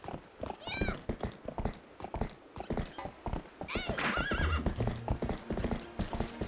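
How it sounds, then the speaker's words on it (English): Horse galloping in The Legend of Zelda: Twilight Princess across daytime Hyrule Field, a steady rapid clip-clop with whinnies, mixed under game music and someone talking. "Horse riding in Day Hyrule Field, good song, Bront."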